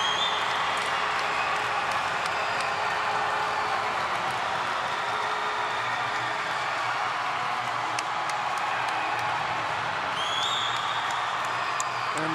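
Arena crowd at an Edina vs. Wayzata boys high school hockey game roars steadily after a tying goal, a dense wash of cheering and clapping that stays loud for the whole stretch with a few whistle-like shouts near the end.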